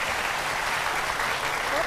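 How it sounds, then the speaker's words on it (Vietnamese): An audience claps and cheers at a makeover reveal on a stage show, dense, loud applause filling the whole moment while a voice speaks over it. "Vỗ tay lớn hơn nữa đi nào."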